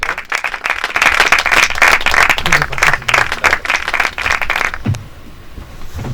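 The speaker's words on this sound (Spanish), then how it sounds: "un fuerte aplauso al señor director" Dense, loud applause from a film-screening audience greeting director Pedro Aguilera at a post-film colloquium, sustained for several seconds before tapering off abruptly near the end.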